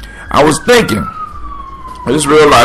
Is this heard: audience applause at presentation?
no